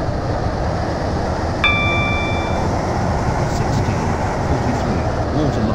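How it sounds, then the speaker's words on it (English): Steady low rumble of a Class 730 train running in the Roblox game Stepford County Railway, with a brief chime-like tone ringing out once near the start over the continuous rolling noise. "This train is now approaching Cambridge Street Parkway."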